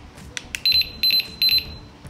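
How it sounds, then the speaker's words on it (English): Three pairs of short, high electronic beeps from a Jugbow DT-61 shock collar sound at a steady rhythm, close and clear over a quiet background with a few faint clicks. "We got the beepers. We got different levels of beeps."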